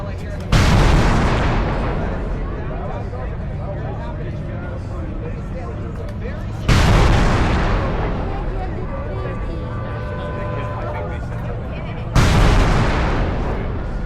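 Three loud booming salute shots from military guns during a harbor festival parade of sail, evenly spaced about six seconds apart, each sharp blast rolling away in a long echo, with people talking nearby.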